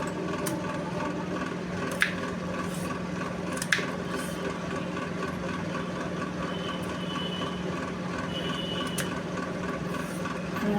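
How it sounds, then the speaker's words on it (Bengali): A knife slices food into thin, long strips, giving a soft, steady rubbing and cutting texture with a couple of sharper clicks, heard close and alone over a constant low hum. "পাতলা করে লম্বা লম্বা করে কাটছি।"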